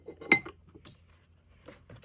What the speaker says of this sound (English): And I've got some more cups going in there. And I've got some cute little serving bowls